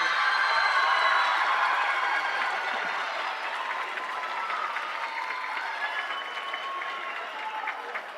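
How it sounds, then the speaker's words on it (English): A graduation audience at Edison Career and Technology High School applauds in a steady, dense wash of clapping that slowly fades slightly over several seconds. "you can give him a clap up"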